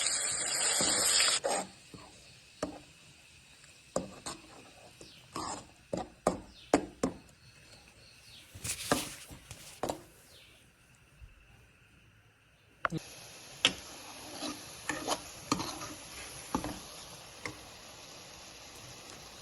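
Curry leaves and ground masala fry in a pan for a Coorg curry, giving a close, bright sizzling hiss that fades out, leaving scattered clicks and spoon knocks, then returns steady and loud for the last several seconds; no voices.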